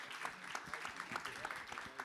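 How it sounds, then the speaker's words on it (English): Scattered clapping from a small audience at a panel discussion, soft and brief, with a voice talking over it. "if you don't mind giving my panelists a round of applause here"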